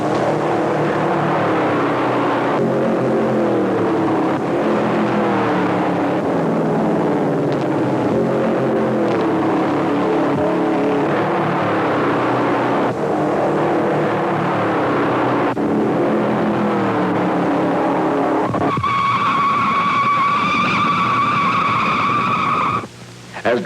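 1955 NASCAR stock cars lap the Darlington speedway in practice runs a month before the Southern 500, engines roaring loudly and continuously with passing surges, then a steady high tonal whine near the end.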